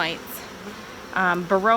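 Honeybees during a hive inspection, some showing wing deformity from varroa mites: a few close, tonal buzzes of single bees flying past, the last two strong and rising, over a quiet background.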